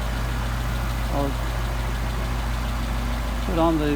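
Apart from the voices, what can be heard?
engine with Solex carburetor idling, picking up RPM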